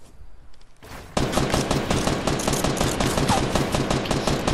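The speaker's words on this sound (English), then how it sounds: "Why is he just shooting a shotgun?" Fortnite gunfire starts after a quiet moment and turns into rapid, loud, sustained bursts of shots that continue to the end.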